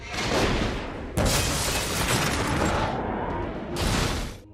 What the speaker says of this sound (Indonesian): tiba-tiba saja mobilnya meledak.